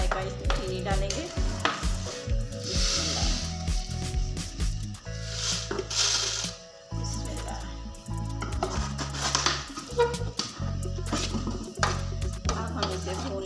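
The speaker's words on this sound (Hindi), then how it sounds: "दरमियानी आंच पे हम इसे पकाएंगे और चम्मच मसलसल हिलाते रहेंगे।" Milk halwa fried in ghee in a pan and stirred constantly with a spoon over medium heat, giving close, repeated scraping and clacking strokes over a soft sizzle, with voices in the background at times.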